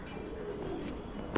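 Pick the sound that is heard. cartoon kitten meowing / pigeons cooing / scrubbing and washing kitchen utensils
pigeons cooing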